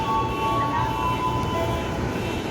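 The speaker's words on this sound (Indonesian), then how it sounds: "Itu ada komuter lain tujuan stasiun Tanah Abang, pemberangkatan dari stasiun Rangkas Bitung." Commuter train rumbling at Rangkas Bitung station in western Java, a steady low mechanical drone with a faint high whine running throughout at moderate distance.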